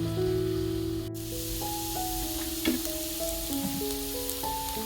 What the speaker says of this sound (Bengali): এবার কাঁচা টমেটোটা দিয়ে দেবো